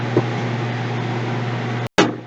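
A heat-treating guillotine oven runs with a steady, loud electrical hum and fan-like drone, briefly cut off near the end before resuming with a short clunk.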